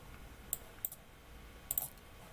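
Mouse buttons clicking at a desk while working in Visual Studio, a few sharp, faint clicks, two single and then a quick cluster, over a low room hum.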